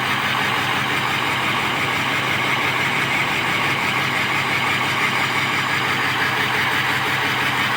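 A Ford F-250 pickup with a 6.0 diesel engine idling steadily, a continuous even rumble with a clattering texture, close and constant with no voices.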